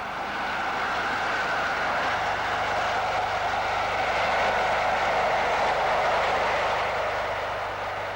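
A steam locomotive, Sir William Stanier, races south under newly erected overhead wires at Tamworth in 1963, hauling a Glasgow to London special. It gives a steady, loud, broad rumble and rush throughout, with a low hum entering partway through.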